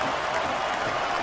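Arena crowd in the wrestling video game SmackDown vs Raw 2006, a brief, steady wash of crowd noise and scattered clapping at moderate level.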